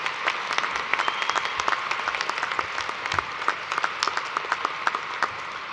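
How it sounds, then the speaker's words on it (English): Audience at a fall undergraduate commencement applauds steadily, a dense wash of many hands clapping in a large room for several seconds, with no talking over it. "Please give Dr. Bova another round of applause to thank him."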